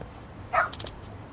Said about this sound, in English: What's up with this dog?